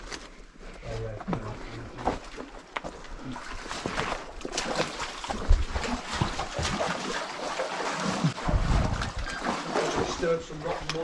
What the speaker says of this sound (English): I hear the flowing water.